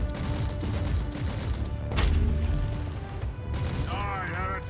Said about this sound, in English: How far you can shoot the rockets.